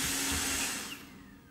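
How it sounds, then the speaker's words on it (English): A MAMNV BR151 robot vacuum and mop combo whirs loudly and steadily nearby, then winds down to a quieter hum after about a second. "Telling Alexa to turn off the vacuum will stop the vacuum dead in its tracks"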